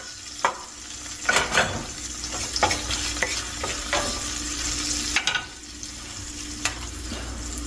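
Garlic frying in coconut oil in a pan, a steady close sizzle broken by intermittent scrapes and clacks of stirring.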